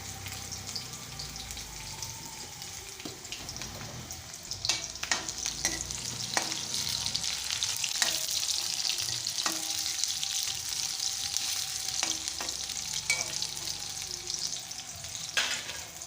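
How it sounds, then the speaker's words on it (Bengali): Onions frying in oil in a pan for a radish and potato curry: a steady sizzle and crackle throughout, with scattered sharp pops and stirring scrapes, close and fairly loud, with no voices. "পেঁয়াজটা ভাজা হয়ে গেছে।"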